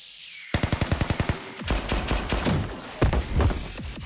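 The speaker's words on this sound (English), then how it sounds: "Grenades. Flashbang." Grenade blasts and a flashbang go off in the anime-style shooter Blue Archive, beginning with a fast run of sharp, even bursts, then a rumbling stretch of dense, booming explosions, loud and close.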